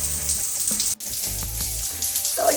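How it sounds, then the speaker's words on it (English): A hot shower runs aboard a sailboat, the water hissing steadily and close, with a brief dropout near the start and some splashing shifts, no speech. "enjoying a long, hot shower"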